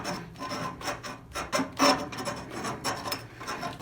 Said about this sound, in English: So, file these ends down.